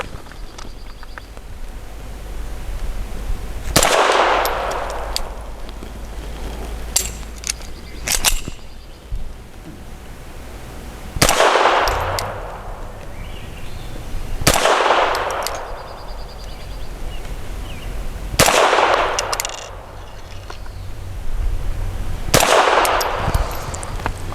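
A Grand Power K22 X Trim pistol fires single shots at a target about 7 yards away. Five loud, sharp reports come several seconds apart, each with a short ringing tail. Faint clanks and shuffling sounds fill the gaps between shots.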